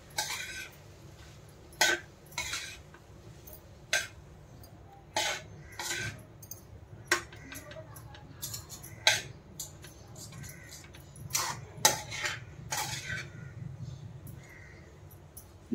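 Plain cooked rice from a pressure cooker is stirred in a metal container, with a spoon scraping and clinking in irregular taps and knocks over a quiet background, close by.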